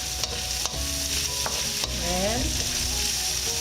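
Sliced onions frying in a pan for chicken curry, a steady sizzle with a few stirring scrapes, close and continuous, with a short spoken word near the start.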